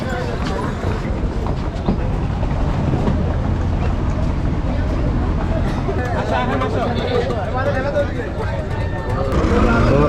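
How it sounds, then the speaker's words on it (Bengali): At a river launch ghat, Char Kachhopia on the way to Char Kukri Mukri in Bhola, a boat's engine gives a constant loud rumble. People talk over the engine throughout. "এখানে দেখতে পাচ্ছেন স্পিড বোট"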